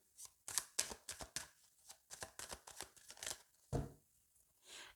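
Tarot cards are cut and shuffled close up, giving a quiet run of crisp riffling flicks and slaps in irregular bursts, with no talking.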